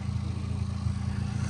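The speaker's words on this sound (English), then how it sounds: "Oh yeah, it's revving up nice." Volkswagen Jetta engine, a Fast & Furious–style build with a blown clutch, idling with a steady low rumble and slight revving, close and continuous with no talk.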